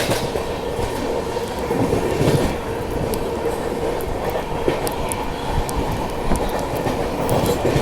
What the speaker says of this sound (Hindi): ये आई हमारी बीकानेर हावड़ा लोकोमोटिव शेड के साथ।